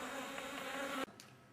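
Honeybees at a beekeeping farm buzz in a steady, dense drone that cuts off abruptly after about a second, leaving a quieter hum.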